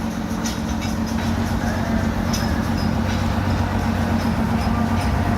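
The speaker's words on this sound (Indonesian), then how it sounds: "Kereta lori melewati rel dan lagi membawa rel teman-teman." A narrow-gauge plantation lorry train running along rails while hauling a load of portable track, giving a steady, loud rolling rumble with faint clicks throughout and no talk.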